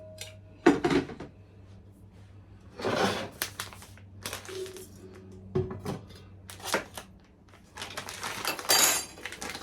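A metal spoon scrapes and clinks against a pot while stirring spices, in irregular bursts, close by, with pauses between stirring strokes and faint background hum.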